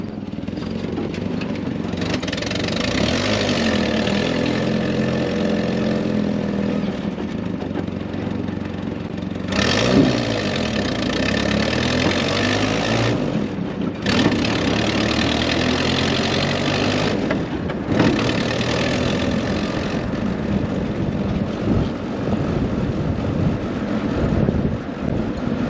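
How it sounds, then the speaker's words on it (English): A Jeep engine idles in a continuous low rumble, heard close with gusty wind buffeting the microphone and a couple of brief dips and shifts in the hum. "Got the Jeep running."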